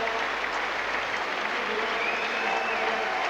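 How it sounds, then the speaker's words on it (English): Large stadium crowd applauding at a football World Cup qualifier between New Zealand and Australia at Mount Smart Stadium, a steady dense wash of clapping and cheering lasting throughout. "The big crowd here at Mount Smart Stadium are loving it."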